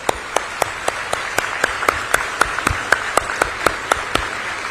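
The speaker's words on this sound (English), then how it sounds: "So please give them a big round of applause." Audience at an Amrita University graduation ceremony in India claps in a loud, steady rhythmic unison beat, with regular sharp claps standing out over a continuous crowd applause background.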